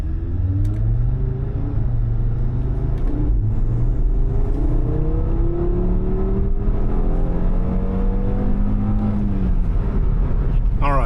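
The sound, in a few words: Audi RS3 accelerating on a drive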